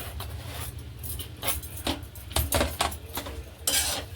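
A spoon stirs semolina sheera cooked in ghee with cashews and raisins in a pan, making repeated close scraping and clinking strokes against the metal in an irregular rhythm.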